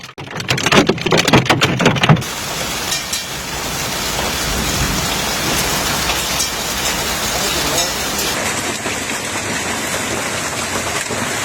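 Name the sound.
hailstones falling in a hailstorm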